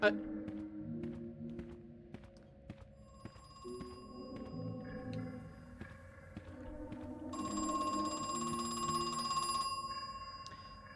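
A telephone rings in the horror video game Crow Country, its bell repeating in steady bursts alongside game tones and music while a person talks over it.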